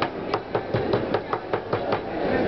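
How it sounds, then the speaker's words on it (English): Slices of papyrus stalk being beaten with a hammer to make them flexible, a steady series of about nine dull, even blows, close and distinct with no talk. "We use something like the hammer. Just will be the slices flexible like this."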